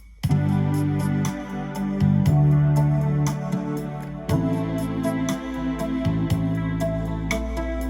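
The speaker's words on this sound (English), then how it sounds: "So I'm just playing a few chords" An electronic keyboard plays sustained chords that change every second or so, backed by a steady programmed drum beat with crisp hits.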